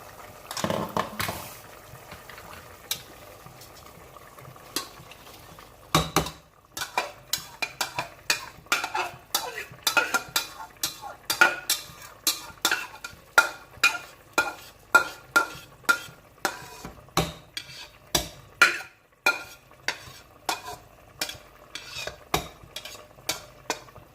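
Rice goes into a pot of boiling water for chickpea pulao, then a utensil stirs it in a steady series of sharp scraping knocks against the pot, about one per second, close and clear with no talking.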